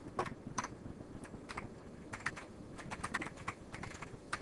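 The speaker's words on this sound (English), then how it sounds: "I think I typed the wrong password here" A password being typed on a computer keyboard at a Windows XP remote desktop login prompt: quiet, close, irregular clusters of key clicks with short pauses between bursts.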